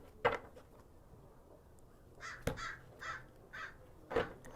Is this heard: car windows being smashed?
no